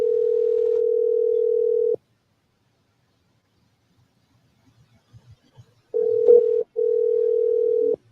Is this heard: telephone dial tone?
yes